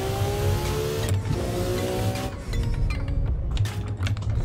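A Nissan R34 engine in the driving game Assetto Corsa roars loudly and continuously at high revs through high-speed traffic, pitch climbing and dropping with gear changes and a brief lift around the middle, no voices.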